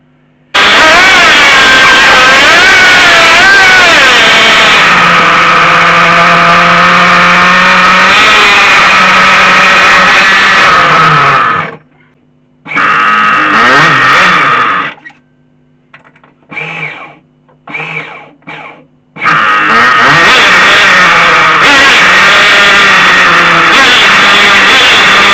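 Flying Point Probe VXI nitro RC car engine revving hard and loud with rising and falling pitch, cutting out abruptly, then several short sputtering restarts and bursts before it runs steadily again at high revs.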